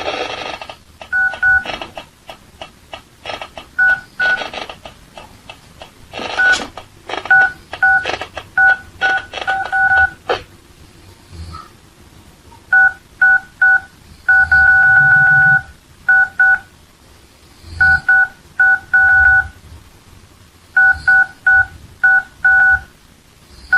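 Telephone sounding on its own, giving bursts of loud dual-tone dialing beeps in irregular rapid clusters with short gaps, close and alone with no voices.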